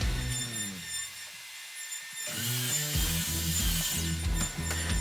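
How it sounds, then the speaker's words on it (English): A CNC machine cuts wood in a workshop during a barnwood headboard build, a droning, pulsing mechanical grind with rhythmic tonal stutters that briefly drops away before resuming. "you can see the CNC running. That's the extra cutting that you hear."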